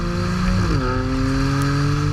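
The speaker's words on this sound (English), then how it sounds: "It makes a surprising, or it makes a remarkable amount of interior noise, engine noise." Twin-turbo six-cylinder engine of a 2015 BMW M3 droning loudly inside the cabin, a steady engine tone that steps up in pitch partway through as revs change, with no talking.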